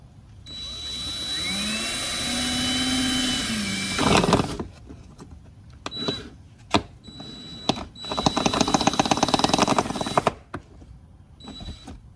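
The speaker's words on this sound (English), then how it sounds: "just go ahead and drill through it" A power drill whirs and bites into a cracked ATV plastic body panel, running in several bursts with rising and falling pitch, stopping and starting between short pauses.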